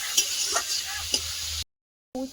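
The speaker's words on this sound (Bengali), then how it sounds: "শুধু নুন আর হলুদ দিয়ে উচ্ছেটা ভেজে নেব" Bitter gourd frying in a pan with just salt and turmeric, a steady soft sizzle with a few faint stirring knocks, cut off by a brief silence before resuming.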